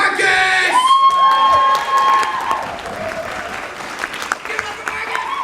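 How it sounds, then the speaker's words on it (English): A poetry slam crowd at a writers festival breaks into loud applause, cheers and whoops for poet Marcus, strongest at the start and then settling into steady clapping as voices carry on over it. "give a huge round of applause for Marcus"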